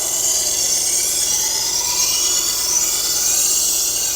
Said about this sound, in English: I got to put my dust collection system on.